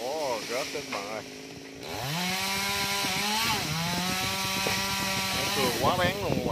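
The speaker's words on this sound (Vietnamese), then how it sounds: "Máy cưa quá bén luôn các bạn." Close, loud chainsaw revving, then biting steadily into thick tree branches, the engine whine climbing and holding under load before dropping back to short revs, with someone speaking over the noise.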